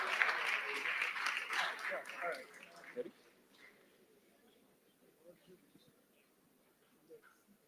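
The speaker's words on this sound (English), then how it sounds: "please give them a round of applause as well" A hackathon audience gives a round of applause, a fairly strong burst of clapping that fades out after about three seconds into a quiet room with faint scattered sounds.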